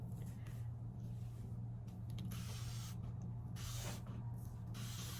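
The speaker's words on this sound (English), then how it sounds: "the one from the dollar store actually came with the nozzle, so you can spray it" Several hissing bursts of a dollar-store spray bottle nozzle, a few seconds apart, over a steady low hum.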